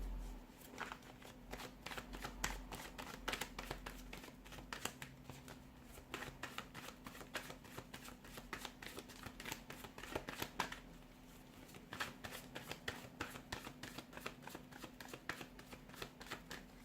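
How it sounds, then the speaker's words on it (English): A deck of tarot cards is shuffled close up, with rapid bursts of riffling clicks and flutters repeating throughout over a faint steady hum. "let's give the cards a shuffle and let's begin."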